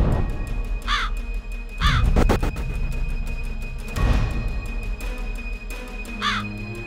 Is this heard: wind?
no